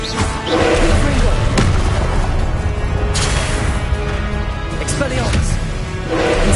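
Confringo fire spell blasts in Hogwarts Legacy, a dense booming explosion with crackling debris that rumbles steadily, a sharp burst near one and a half seconds and more near three seconds, mixed with game sounds and talk.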